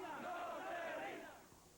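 A crowd of a few hundred rallying in Buenos Aires, voices merging into a swelling roar of chanting and cheering at a distance, briefly rising and then easing off.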